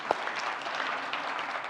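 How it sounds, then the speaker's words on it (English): Conference audience applause for a presenter at a market research event, a short, moderately quiet patch of steady clapping that runs evenly throughout. "May I also ask you to give a big applause to our presenter?"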